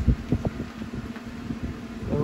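A steady swarm of bees, being removed from a hive inside a concrete block wall, buzzes close by in a continuous drone, with scattered bumps and handling noise underneath.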